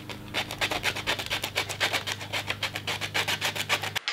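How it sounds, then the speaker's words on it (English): Sandpaper is rubbed rapidly back and forth over plastic guitar knobs, giving a steady run of rasping strokes close to the microphone over a constant low hum, ending abruptly. "So I've sanded these."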